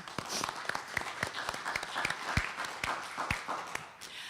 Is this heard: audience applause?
yes